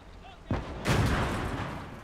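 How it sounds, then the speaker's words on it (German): A field gun fires in the WWII strategy game Gates of Hell, a sharp report followed by a second heavier boom that rolls into a lingering rumble. "Es kann sein, dass ein Schuss losgeht"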